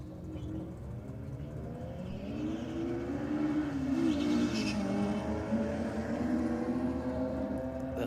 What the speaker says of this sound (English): That Honda sounds like it's revving its head off from our track mics here.